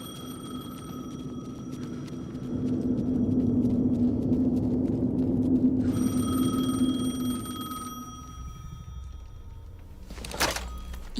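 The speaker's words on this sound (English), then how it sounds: "The phone again." An in-game telephone in Alan Wake 2 rings with a sustained electronic tone that swells and holds for several seconds, then gives way to a brief rattling clatter near the end, heard without any talking.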